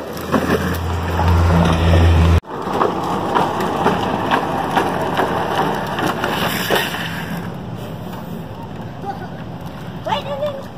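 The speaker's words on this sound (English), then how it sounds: "here comes my younger nephew riding his green machine" A child rides a Green Machine ride-on trike, its plastic wheels grinding and scraping in a loud continuous rumble as it drifts near the listener, with people talking over the noise.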